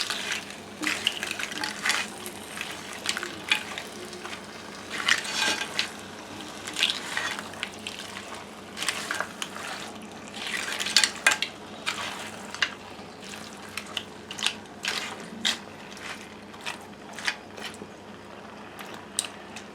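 Cleaned crab is stirred into masala in a pan, with a low sizzle under irregular scraping and clattering strokes of the spoon, close and moderately loud, no voices.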